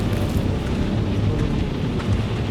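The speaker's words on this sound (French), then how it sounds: "La tempête empire!" A storm rages in the horror video game Outlast II, steady heavy rain and rumbling thunder filling the scene as a dense continuous roar with no talk.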